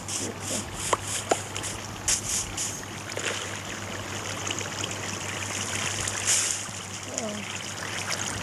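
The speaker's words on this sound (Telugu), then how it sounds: "వాటర్ ఎక్కడేదో ఉంది." Flowing water in the Minecraft video game makes a soft, continuous rushing trickle, faint and steady throughout. Occasional small clicks and splashes are scattered over it.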